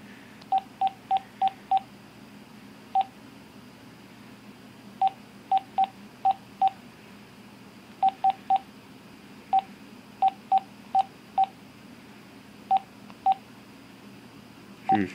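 A telephone keypad dials in crisp, evenly pitched DTMF beeps, heard in short clusters and single presses with pauses between groups. A faint steady room hum runs underneath and no one speaks.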